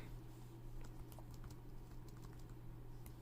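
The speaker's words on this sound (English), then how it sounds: "And then I'm gonna type in" Soft, quick key taps on a Chromebook keyboard, a faint irregular patter of clicks over a low steady hum.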